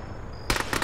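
A short burst of rapid gunfire erupts in the Arma combat game, several loud close shots in quick succession following a brief quiet hum.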